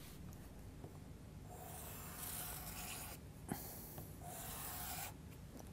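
Derwent XL Groove Cube, a grooved abrasive block, drawn across paper to leave marks: two long, quiet dry rubbing scrapes with a soft rasp, separated by a short pause and a small click.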